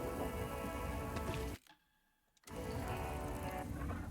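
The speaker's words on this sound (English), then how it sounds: "it's still raining in this shack" Rain falling inside a shack in the video game Alan Wake 2, a dense steady patter of drops on surfaces, close and continuous, cutting out almost completely for about a second before resuming at the same level.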